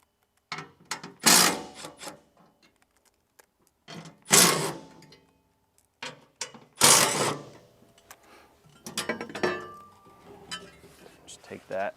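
A socket wrench on the final drive cover bolts of a Tilmor 520 tractor gives close metallic ratcheting and clinking bursts spaced apart, with quiet gaps between them and a voice talking in places.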